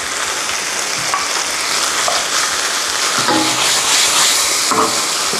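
Pork stir-frying with gochujang sauce in a pan, a loud, steady sizzle and hiss with occasional scraping stirs, close by.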